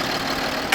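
Idling engine of a high-mileage Hyundai Veracruz with about 450,000 km, a steady mid-level hum throughout, ending in a brief louder burst.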